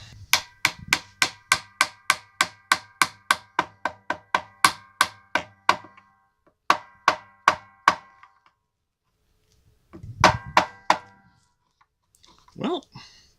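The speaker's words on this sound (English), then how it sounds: "And then we're going to hammer it in." Repeated sharp hammer strikes ring out close by in a fast, steady rhythm while a part is hammered into a Music Man bass, pause briefly, then resume in shorter bursts before stopping.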